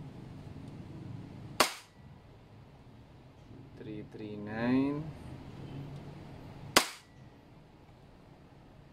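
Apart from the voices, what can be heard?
EMG Taran Tactical Pit Viper gas blowback airsoft pistol shots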